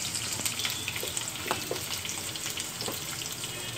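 Onions and green chillies sizzle and fry in a pan for Telugu ridge gourd curry, a steady close crackling hiss with occasional stirring scrapes and no talking.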